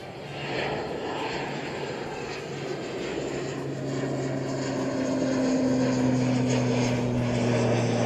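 An Emirates airliner on flight EK 413 takes off, its engine roar building steadily from a distance into a loud, sustained rumble with a rising droning tone, no voices over it.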